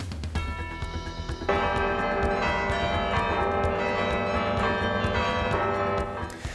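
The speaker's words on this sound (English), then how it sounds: "Bells ringing at cathedrals all across the United States" Cathedral church bells peal for the new pope, a bright, loud, overlapping clangor of several bells ringing continuously with a ringing sustain, no voices over them.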